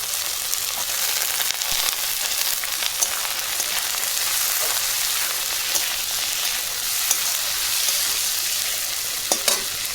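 Finely chopped potatoes fry in a pan with a continuous close crackling sizzle, broken by occasional sharp stirring clicks, with no talking.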